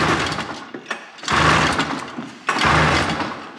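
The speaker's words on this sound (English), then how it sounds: "It's gonna take you more pulls to get it going than it took me the first time." Someone pull-starts a vintage snowmobile engine with repeated rough rasping pulls. Each pull whirs and sputters for about a second, and the engine does not settle into a steady run.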